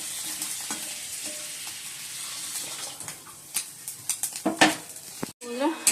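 Fish roe fritters fry in a small amount of oil with a steady, close hiss, followed by a run of sharp spoon and pan clatters toward the end.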